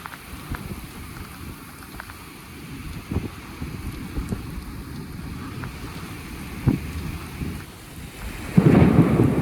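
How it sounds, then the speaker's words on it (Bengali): Heavy rain pours in Jeddah with wind gusting and thunder rolling as a deep, continuous rumble, building into a louder, harsher burst of downpour near the end, with no talk. "والله مطر قوي شديد ما شاء الله شديد مره"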